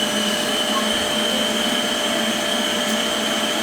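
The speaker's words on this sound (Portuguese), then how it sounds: "Dá pra ver ali dentro da batedeira" A stand mixer running with gateau basque batter in the bowl, giving a steady, loud whirring motor drone that holds evenly throughout without change.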